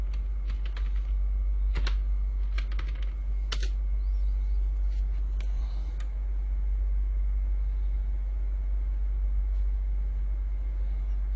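Quick clicks from a computer keyboard come in short bursts over a steady low hum, crisp and nearby at first, then thinning to sparse keystrokes with no voices.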